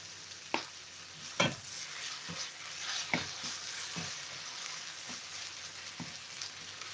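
Ground ginger fries in a pan and gives a soft, steady sizzle. Scattered spoon scrapes and taps sound every second or so as the mix is stirred so it does not stick.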